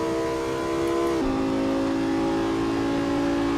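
A car engine in the Assetto Corsa racing game, driven gently with traction control off, a steady droning hum that drops in pitch partway through as if shifting gear, continuous and alone.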